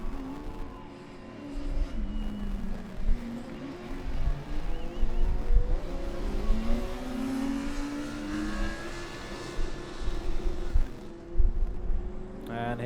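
A car runs a timed autocross slalom lap through cones and a chicane, its engine note rising and falling steadily with repeated revving as it pushes hard, heard at a moderate distance with some outdoor background.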